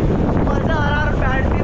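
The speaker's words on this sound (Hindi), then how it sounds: "ठंडी ठंडी हवाएं चल रही है" Cool wind buffets the microphone during a motorbike ride, a loud continuous rushing roar with engine-like drone beneath and no clear speech.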